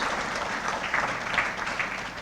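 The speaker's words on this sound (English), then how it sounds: "Let us give him a special round of applause." A room of guests at a New Year's gala gives sustained applause, a continuous rolling patter of many hands clapping, fairly loud and even from start to finish.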